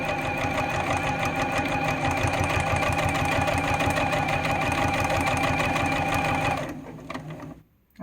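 A sewing machine runs continuously and rapidly while stitching binding on a table runner, a loud close whirring clatter that stops near the end.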